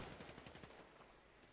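Gunfire in a video game roleplay: a dense, continuous spray of rapid shots rattling along without a break, fairly faint and distant-sounding, with no talking.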